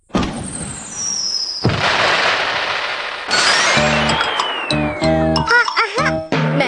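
Cartoon fireworks in Doraemon whistle up with long sliding tones, then burst into crackles and bright ringing chimes, several launches following one another, loud and close.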